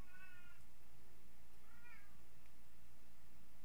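A red cat meows twice from outside a closed room, faint and muffled, with a pause between the calls against a quiet background hum.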